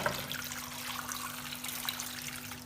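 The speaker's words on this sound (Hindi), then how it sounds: "और इसके अंदर ऐड करेंगे हम पानी।" Water pours steadily from a jug into a pan of chopped carrots, a continuous soft splashing trickle with no voices.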